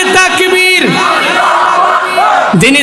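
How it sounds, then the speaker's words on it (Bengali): A large crowd shouts a slogan together at a religious rally, loud, ragged massed voices rising and falling in unison, with a fresh chant starting near the end. "সবাই মিলে একই তালে দাও না স্লোগান"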